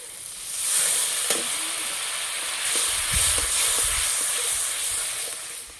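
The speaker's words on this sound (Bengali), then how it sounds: "একটু জল দিয়ে মশলা ভালো করে কষিয়ে নেব।" Ground spice masala with chili and Kashmiri chili powder hisses and steams in a pan after a splash of water, a loud continuous sizzle with a few soft knocks of a spoon underneath.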